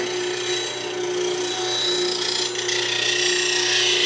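A skew chisel's bevel is dressed on a bench grinder, giving a steady, continuous grinding rasp with a constant motor hum beneath it, close and fairly loud, with no talking.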